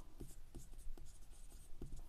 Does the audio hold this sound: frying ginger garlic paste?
no